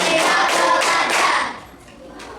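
Children in a primary school class clap their hands together in a counted clapping game, a quick run of sharp, close claps in a steady rhythm that stops abruptly, leaving quiet room tone.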